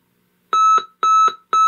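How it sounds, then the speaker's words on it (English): Buzzer alarm from a vintage GE AM/FM/cassette alarm clock, model 7-4956B: a harsh, steady electronic tone pulsing in three short, evenly spaced bursts, loud and close after a moment of silence. "And there you go, that's the buzzer sound."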